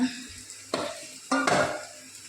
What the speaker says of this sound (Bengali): এই সব সবজি ফবজি দিয়ে আর পাস্তা রান্না হচ্ছে